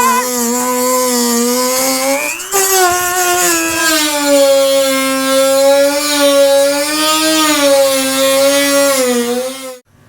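A continuous, loud, high-pitched cutting-tool whine holds steady for about ten seconds while an incision is cut along a marked line in the fender of a 5th-generation Toyota 4Runner.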